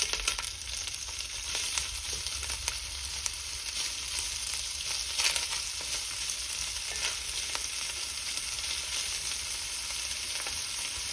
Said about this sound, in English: When the oil's hot, we're gonna add the sausage and cook them till they're browned.